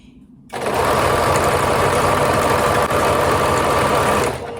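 A sewing machine runs steadily for about four seconds, a fast even mechanical whir stitching a French seam on fragile silk or organza, starting abruptly and stopping near the end, close and clear with no talk.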